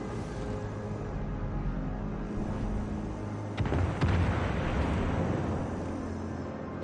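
Naval guns fire in the warship battle video game World of Warships Legends: a low engine-and-sea rumble runs throughout, broken midway by a sharp, booming salvo and a second crack that ring out and fade.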